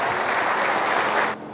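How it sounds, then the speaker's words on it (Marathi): Audience applause at a devotional gathering honouring Shri Swami Samarth Maharaj, a dense steady clapping crowd that holds loud throughout and cuts off sharply near the end. "जोरदार टाळ्या व्हायला पाहिजेत एकदा सर्वांच्या।"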